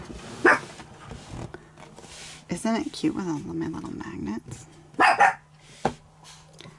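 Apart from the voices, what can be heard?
dogs barking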